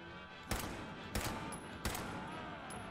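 Gunfire in Fallout 76 sounds as three sharp, evenly spaced shots roughly two-thirds of a second apart, each a bright crack over a low, steady game-ambience bed.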